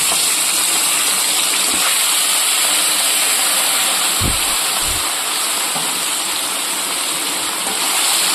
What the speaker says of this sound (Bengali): এবার মাছগুলোকে এটাকে ভেজে নেব।